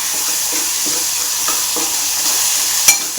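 Tomatoes cooked with red chilli powder and turmeric fry steadily in oil, a constant close sizzle broken by a few soft stirring scrapes and one sharp clink near the end.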